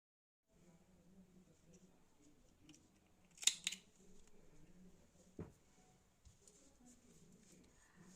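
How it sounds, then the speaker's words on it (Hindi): Scissors snip through two strands of wool yarn with a couple of sharp close cuts amid quiet handling noise, faint murmured speech in the background. "अब इन 2 ऊनों को हम काट कर अलग कर देंगे यहाँ से।"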